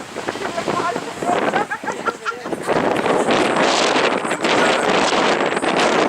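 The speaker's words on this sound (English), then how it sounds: "And it is quite windy up here." Strong wind buffets the microphone in a steady roar on a hilltop in Gibraltar, with a few faint voices and gusty rumbles mixed underneath.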